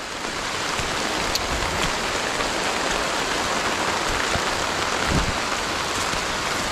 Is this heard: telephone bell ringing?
no